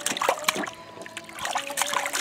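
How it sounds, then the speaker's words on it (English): A child splashing in a pool: light splashing and trickling water, with irregular small splats and dribbles close by, at a low level. "you like splashing"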